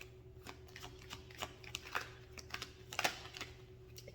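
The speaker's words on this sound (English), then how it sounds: "Okay, I'm gonna pull an angel card." Angel cards being shuffled and pulled from a deck, a soft run of papery flicks and taps with a couple of sharper snaps, close and fairly quiet with no talking.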